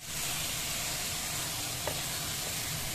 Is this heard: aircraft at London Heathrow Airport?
no